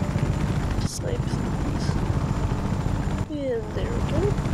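A helicopter in the video game Just Cause 3 drones steadily with a dense, rumbling rotor roar throughout, interrupted by a couple of brief sharp breaks and faint higher tones.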